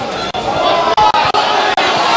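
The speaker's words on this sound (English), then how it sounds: "The crowd, you can hear them." A rugby crowd at a colts grand final between Wanderers and Merewether Carlton roars in a steady, loud wash of voices, broken by a few sharp momentary dropouts.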